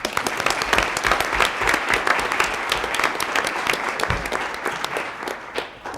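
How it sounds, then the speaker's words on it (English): An audience at a college readiness conference applauds student videos and a keynote speaker, with sustained, crackling clapping from a large room that fades slightly near the end. "Could you join me in a round of applause for those great student videos and for our keynote speaker?"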